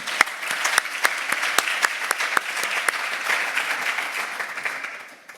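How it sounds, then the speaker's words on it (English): Applause from a seminar audience at a seascape science symposium session, a dense steady patter of many hands clapping that continues evenly and then tapers off near the end. "if we give them all a round of applause"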